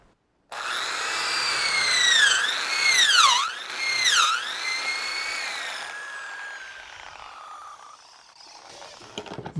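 Power drill boring a hole into a small log for shiitake mushroom spawn, a whining motor tone that dips and rises in pitch as the bit loads and frees, close, then fading to a rough rumble.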